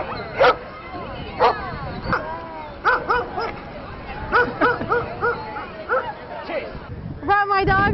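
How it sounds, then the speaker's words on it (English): Several dogs at a doggie Easter egg hunt in Howard Amon Park bark and yip in scattered bursts, with an occasional whimper, some close and loud. Voices are heard now and then between the barks. "dogs got to roam around and hunt for their very own Easter egg treats at Howard Amon Park"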